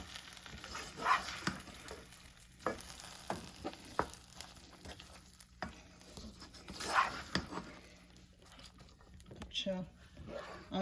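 Cooked mash dal is stirred and mixed in a pan off the heat, giving soft scraping and a light sizzle under a voice, with scattered quiet clinks.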